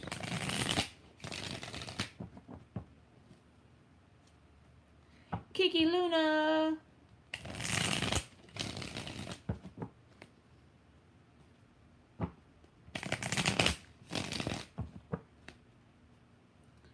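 Several bursts of close tarot card shuffling, each a second or two of dry riffling, separated by quiet pauses; a person speaks briefly between them.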